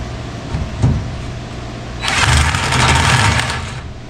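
An air impact gun zipping a nut off a 1966 Mustang barn-find under restoration: a short burst near the start, then a loud, rattling hammering run of about two seconds close by.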